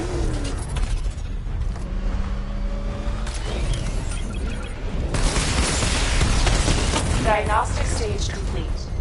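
Missile barrage firing in a Batman Arkham video game, loud rumbling bursts and crackling impacts layered over continuous game noise, with a spoken voice present.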